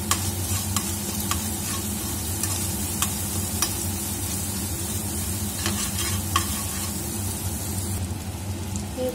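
Chopped green chilli being stirred into an egg omelette curry in a pan, with steady sizzling frying and repeated scraping clicks of a spatula throughout, close and fairly loud, no talking.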